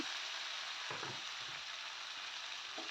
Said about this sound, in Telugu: ఇప్పుడు ఉల్లిపాయ ముక్కలు వేసుకుని వేయించుకోవాలి